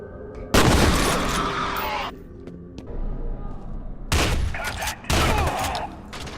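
Shotgun blasts in the video game F.E.A.R. 2: several loud, booming shots in close succession with ringing tails, separated by short gaps of quieter game ambience.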